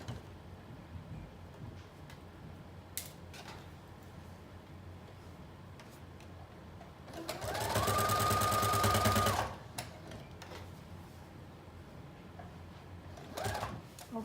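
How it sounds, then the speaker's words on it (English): A sewing machine runs a regular straight stitch on a mermaid-style prom dress for about two seconds, a steady, loud whirring burst that rises out of quiet room ambience and then stops. "And we're just gonna sew in a regular stitch"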